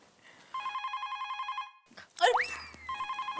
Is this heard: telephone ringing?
yes